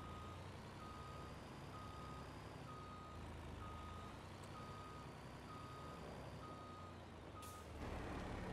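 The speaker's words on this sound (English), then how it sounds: "let's back up before that guy walks behind our truck" A truck's reversing alarm in a farming simulator video game sounds as regular, evenly spaced beeps over a steady engine rumble, about eight beeps, with a brief hiss near the end.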